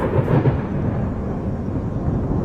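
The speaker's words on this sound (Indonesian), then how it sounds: "segeralah langit berwarna gelap dan petir menyambar-nyambar" Thunder effect in an Indonesian school drama of the Lake Toba folk tale: a loud, continuous low rumble filling the whole stretch, heavy and close, with no voices over it.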